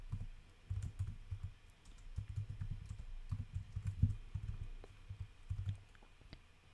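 Code being typed on a computer keyboard, a steady run of soft, close keystrokes in bursts with brief pauses, alone and fairly quiet.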